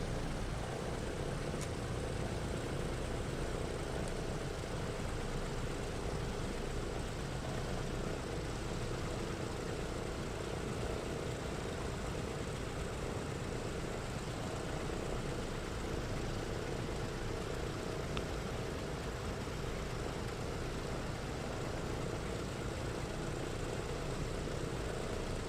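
A DC-6 piston airliner engine in a flight simulator holds steady at 1000 RPM, a continuous even drone with no voices heard over it.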